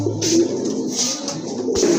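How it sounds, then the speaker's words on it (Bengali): Large pigeons cooing close by in a loft, a few soft rolling coos repeating steadily over a low hum, with no talking. "আরেক জোড়া কবুতর চলে আসছে, বিগ সাইজের কবুতর"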